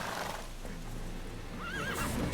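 Horse in Witcher 3: Wild Hunt, a wavering whinny near the end over a dense game soundscape of hoof thuds and rumble, fairly faint overall.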